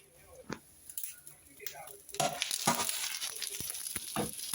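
A pasta casserole in a frying pan sizzles softly, with a few scraping and clattering knocks as it is flipped. The sizzle swells and becomes steadier after the turn.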